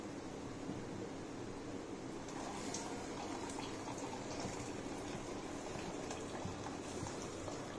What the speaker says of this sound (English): we can filter this drumstick leaves water.